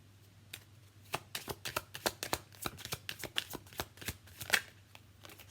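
A mini-edition deck of Romance Angel oracle cards being shuffled close by, with a run of crisp, rapid riffling flutters that quicken in the middle, fairly quiet, with no talking.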